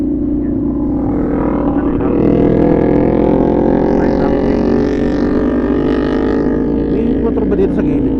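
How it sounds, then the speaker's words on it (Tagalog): A motorcycle engine idles and runs steadily close by on a trip to Monte Maria, a loud continuous drone whose pitch rises slightly midway, with faint talk blending into the rumble throughout. "May motor ba dito sa gilid ko?"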